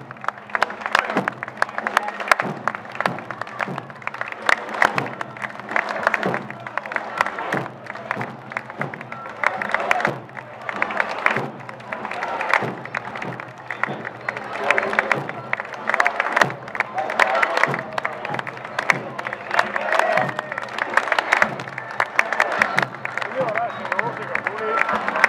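Crowd along an Alpini parade route in Feltre applauds the Verona alpini, with sharp scattered claps and bursts over a steady murmur of voices and an announcer's voice for the whole stretch.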